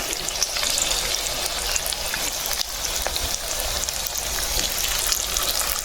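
Bottle gourd fritters made with egg frying in hot oil, a dense, steady crackling sizzle close by with faint clicks throughout, no voices.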